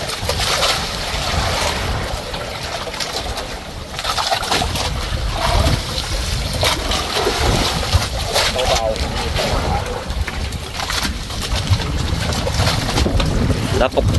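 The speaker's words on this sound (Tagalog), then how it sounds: "Ang hangin." Wind gusting across an open boat at sea during a storm, a steady broad roar with microphone buffeting that runs throughout, with people talking intermittently over it.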